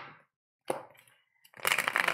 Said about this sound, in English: I'm going to shuffle these cards. I am using the Tarot Power Deck.